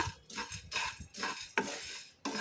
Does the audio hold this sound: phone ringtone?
no